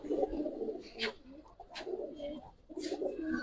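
Indian Kaldam pigeons coo in low, throaty phrases close by, repeating every second or so, with faint chirps above.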